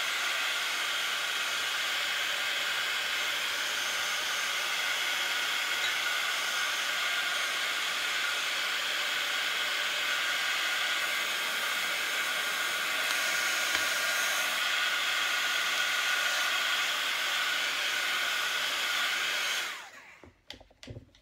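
A hair dryer blows steadily on a painted cardboard heart craft, probably painted with chalk paint, making a loud, even whooshing hiss for about twenty seconds before cutting off abruptly at the end.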